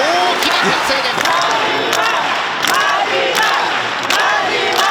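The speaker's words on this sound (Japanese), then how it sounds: "ここからは マリンメス福岡が大きな歓声で" A large arena crowd at Marine Messe Fukuoka roars loudly and steadily during a RIZIN MMA bout, with sustained shouting and cheering throughout and a few sharp thuds and impacts cutting through.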